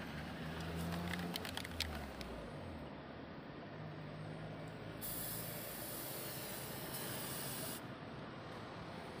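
An aerosol can of anti-leak sealant spray is sprayed onto a leaking roof of asbestos sheet, tile or zinc, making a steady close hiss that runs unbroken for about nine seconds, with a brighter, sharper stretch partway through.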